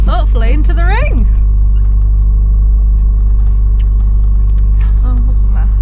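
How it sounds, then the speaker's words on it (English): A warmed-up Ford Escort idles at a game and country fair with a loud, steady, deep rumble; a voice talks briefly over it at the start, then the engine drones on alone. "We're just getting ready, just got the car warmed up to go, hopefully, into the ring."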